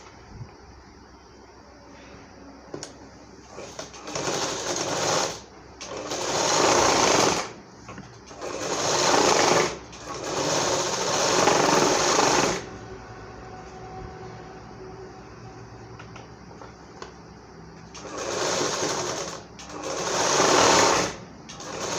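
Sewing machine stitching seams on a blouse during a fitting adjustment, running in several loud bursts of steady whirring separated by quiet pauses, with no talk over it.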